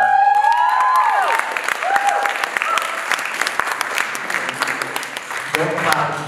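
A student senior exhibition audience breaks into loud, sustained applause mixed with cheering and whoops, dense clapping running throughout with voices calling out over it, close and full.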